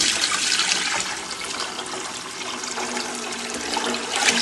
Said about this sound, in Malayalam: ഇതിലേക്ക് ഞാൻ വെള്ളം ഒഴിക്കുന്നുണ്ട്